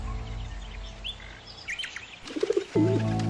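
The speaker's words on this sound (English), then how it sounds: "Now we will go near the pigeons." Pigeons at close range, with a few cooing calls and chirps over a steady background hum, the coos getting louder and clearer toward the end.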